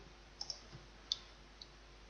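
A few faint, crisp computer mouse clicks land on an OK button, isolated taps spread over a couple of seconds against a near-silent background.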